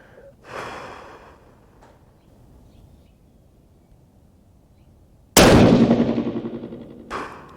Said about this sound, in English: We're going to be shooting this on the third dot, right side.